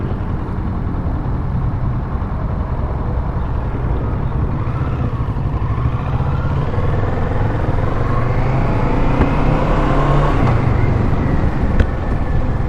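Motorcycle being ridden on the road, a steady continuous engine drone and rumble mixed with wind noise, close and even in loudness from start to finish with no talking.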